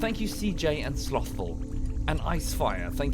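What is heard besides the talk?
None of the usual background noises is heard.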